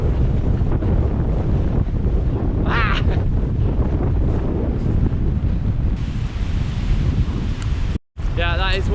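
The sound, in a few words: rough sea waves and wind on a beach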